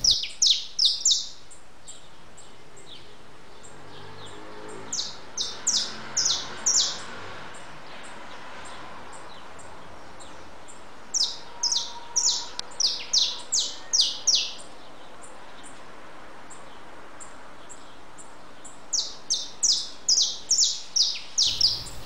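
A canary and a sparrow chirp outdoors, bursts of sharp, rapid high-pitched tweets in several clusters separated by quiet stretches of faint ambient noise, close and clear.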